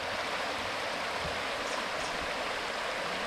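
A clear, low-running stream at a crayfish trapping spot flows with a steady, close rushing wash that stays even throughout, with no voices over it.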